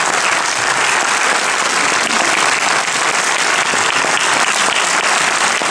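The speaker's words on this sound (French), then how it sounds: "On les applaudit." Loud, dense applause from a theatre audience at a film premiere, an unbroken roar of many hands filling the whole stretch.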